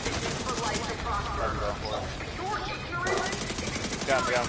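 Rapid gunfire in The Division 2 shooter game, a dense crackle of repeated shots running throughout under a player's voice talking.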